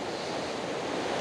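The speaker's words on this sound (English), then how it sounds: "Water's flowing constantly here." Water of Big Spring flowing constantly outdoors, a dense, steady rushing wash that fills the whole clip without breaks or voices.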